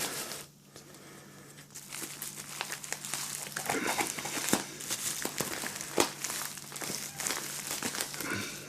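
Plastic wrapping is torn and crumpled off a packaged trading card box, with close, irregular crinkles, rips and sharp crackling bursts that grow busier after a quiet start.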